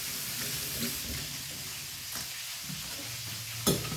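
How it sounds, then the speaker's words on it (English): A green bean mixture sizzles and bubbles steadily in a pot while being stirred, a constant soft frying hiss with occasional scrapes and one sharper clink near the end. "Alright, I'm just gonna stir that up"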